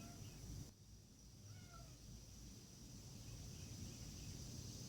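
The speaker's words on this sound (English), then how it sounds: "One of my outside kitties is coming to say hello." An outdoor cat meows, faint, short calls heard over a steady hum of background noise.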